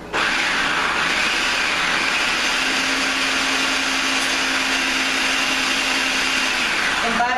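A blender whirs steadily on a raw, non-dairy chocolate ice cream mixture with organic cacao powder, a loud continuous motor hum that holds its pitch for several seconds before cutting off at the end.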